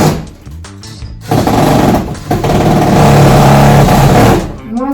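A power screwdriver drives a screw into the timber frame of a house being assembled, its motor whirring loud and steady for several seconds with brief pauses and pitch shifts, close up.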